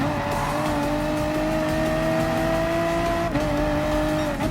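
Race cars in Gran Turismo Sport, with BMW M6s in the field, whine loudly up close at a steady high engine pitch, with tire squeal layered over it throughout.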